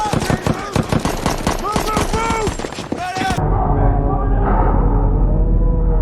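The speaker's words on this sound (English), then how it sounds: "engaging in a firefight with the enemy" Dense automatic and single gunfire rattles loudly through a movie firefight between American soldiers and an enemy, then gives way to a deep, rumbling low-frequency boom that fills the remaining seconds.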